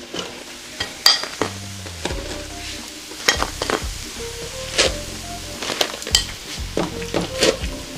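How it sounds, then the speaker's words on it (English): Fork scraping and pressing through freshly cooked dumplings in a pan on a just-switched-off stove, with scattered clinks and taps of metal on cookware over a faint background sizzle, close and without talk. "You can hear the fork going through them."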